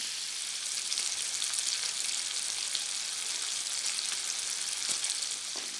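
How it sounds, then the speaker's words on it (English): Bacon frying in a pan, a close, steady hiss and crackle of fat sizzling with scattered small pops, even and continuous with no voices. "our bacon is cooking nicely"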